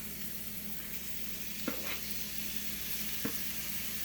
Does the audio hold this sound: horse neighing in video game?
no